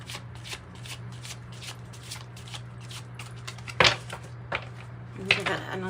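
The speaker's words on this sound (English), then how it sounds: "Give it another shuffle here." Tarot cards are shuffled close by in quick, papery riffles and soft slides, with a few sharper taps and snaps near the end.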